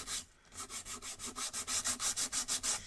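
Card for card making being filed by hand: quick, rhythmic rasping strokes, about a dozen in a row, close and fairly quiet, with no voices.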